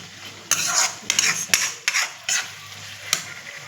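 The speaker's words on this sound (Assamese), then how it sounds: "মাছৰ তেলখিনি ধুনীয়াকৈ ভজা হোৱাৰ পিছত দিছোঁ মই ফুলকবি ঠাৰা আৰু আলুখিনি" Cauliflower and potatoes stir-frying in fish oil in a pan: a few loud scraping strokes of a spatula against the pan over a soft sizzle, close and without talk.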